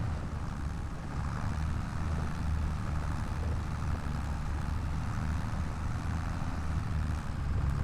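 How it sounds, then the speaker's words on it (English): A tractor engine runs steadily in a logging video game, a continuous low, rumbling drone at even loudness throughout with no speech. "I must say I'm pretty pleased with this tractor."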